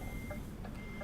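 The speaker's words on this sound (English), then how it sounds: "Sorry for the beeping." Truck reversing alarm in the Euro Truck Simulator 2 game, faint repeated beeps at an even pace over a steady low engine drone.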